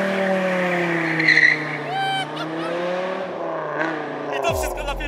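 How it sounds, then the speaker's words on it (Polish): A 1996 Dodge Viper with a V10 of over 500 horsepower pulls hard in first gear out of a small road, its loud engine drone rising under tire squeal and skidding as it passes close by. "zobaczymy, jak zrywa asfalt Dodge Viper"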